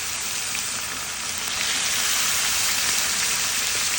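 Fish fries in very hot oil, a loud, steady hiss and crackle of sizzling that holds without pause and swells slightly partway through, with no talk.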